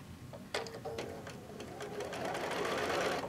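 A sewing machine stitches quilt fabric, starting with a few short bursts and then running in a steady, close, rapid whir that grows slightly louder toward the end.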